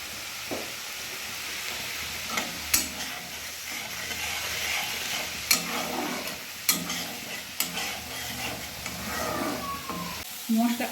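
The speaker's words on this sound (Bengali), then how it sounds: "মশলা কষানো হয়ে গিয়েছে" Spice masala with tomato being sautéed in a pan for a thin koi fish curry, under a constant broad hissing sizzle broken by several sharp spoon scrapes and taps, close by with no speech.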